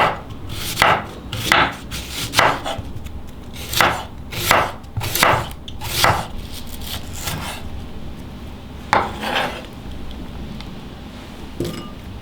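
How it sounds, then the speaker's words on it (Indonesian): A knife slices an onion thinly on a board while cooking martabak: a series of crisp, evenly spaced cuts close up, then a pause and a few more strokes. "Ada 1 buah bawang bombay. Kita iris tipis."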